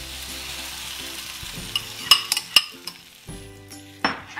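Beaten eggs frying with onions in a pan for an omelette: a steady close sizzle runs throughout, with a few sharp metallic clinks and scrapes of a utensil against the pan partway through.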